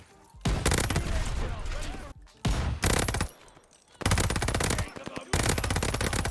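Rapid repeated gunfire from a PTRS sniper rifle in a video game, loud close bursts of fast shots separated by short pauses.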